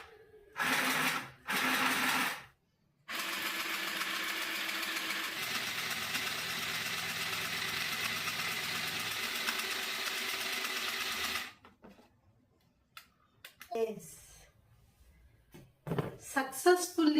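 A mini sewing machine stitches through three layers of cloth with a steady, close mechanical whir lasting several seconds, preceded by short start-stop bursts; a person speaks afterward.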